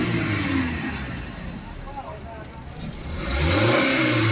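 A Maruti Eeco pickup engine, its air intake cleared of debris, revs up and settles near the vehicle, then climbs again to a louder, steady rev toward the end, with someone talking over it.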